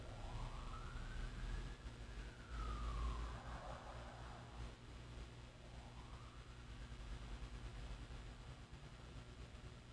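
An emergency siren wails as a vehicle passes at a distance, its rising and falling tone sweeping through two slow cycles over a steady low hum of traffic, fairly faint and without voices.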